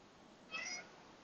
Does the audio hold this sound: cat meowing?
yes